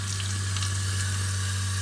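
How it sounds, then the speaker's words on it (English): Hot water runs steadily from a tap supplied by an EcoTemp L5 tankless water heater in an off-grid setup, a constant close hiss with a low steady hum beneath and no talking. "is turn the water down and slow the water down"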